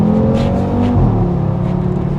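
A tuned Audi RS3 pushed to 500 horsepower accelerates hard, its engine droning loud and close, then dropping pitch at a gear change before pulling on again without talk.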